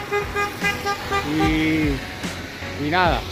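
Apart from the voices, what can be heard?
vehicle horn honking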